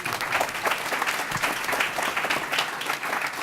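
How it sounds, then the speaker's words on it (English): Applause from the audience at a college and career pathways summit, a fairly quiet but steady patter of many hands clapping with slight swells. "Round of applause."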